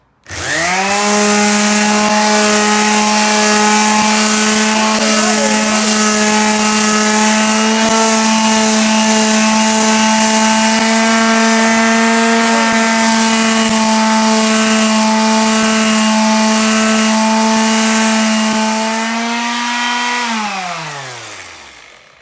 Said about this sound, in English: Sanding time. I just flip it over by myself. Listen to this noise.